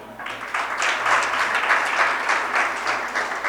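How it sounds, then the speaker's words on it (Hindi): Audience clapping at a Sanskrit youth festival closing ceremony as a prize winner is announced: brisk, close, evenly sustained applause from a hall crowd. "तालियां कम बज रही हैं"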